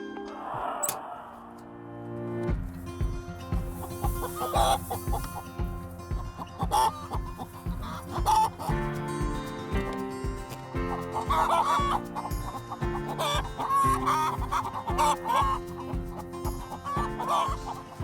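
Chickens cluck near a mobile henhouse on a farm, their calls scattered through the clip over a steady, loud bed of music.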